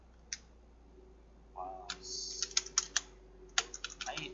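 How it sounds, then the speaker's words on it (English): Fast typing on a computer keyboard, with a short click, then a bursty run of sharp key taps that pauses and resumes in quick clusters, close and fairly quiet. "I suck at typing."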